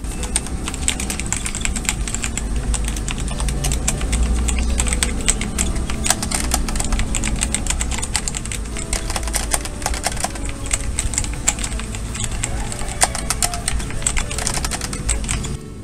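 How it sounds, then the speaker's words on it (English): Continuous, busy typing on an unmodded Flydigi Scorpion D1 keyboard with hot-swappable switches: dense clacking keystrokes at a steady, fast pace, close and fairly loud, with no talking. "this is the unmodded sound of Flydigi Scorpion D1"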